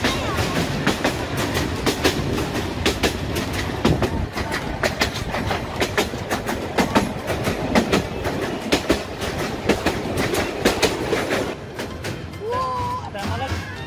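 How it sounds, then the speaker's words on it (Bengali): A train speeds along rails beside open water, fish ponds and green paddy fields, its wheels beating a steady, loud clickety-clack rhythm throughout with dense rumble and a faint squeal near the end. "আমরা এই জলরাশির পাশ দিয়ে ট্রেন দুর্দান্ত গতিতে এগিয়ে যাচ্ছে"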